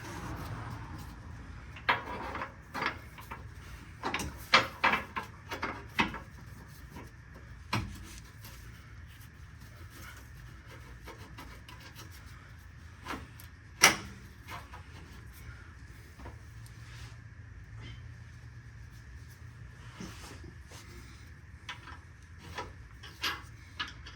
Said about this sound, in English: Using the screwdriver to slide the spacer in all the way.